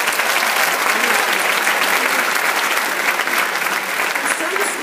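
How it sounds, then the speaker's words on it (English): A graduation audience at Hunter College applauds its faculty, a dense, loud, steady round of clapping that carries on throughout with crowd noise underneath. "Graduates, let's give them a huge round of applause."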